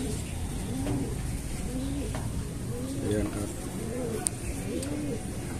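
Pigeons coo in a repeated, soft rhythmic series, with a person speaking over the calls and a sharp click near the end.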